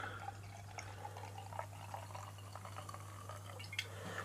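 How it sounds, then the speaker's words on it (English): Nøgne Ø Dark Horizon, a 2017 fifth-edition strong dark beer, glugging softly as it pours from a bottle, with quiet gurgles and small drips over a low steady hum. "we're going to pour it, and look at that lovely glug"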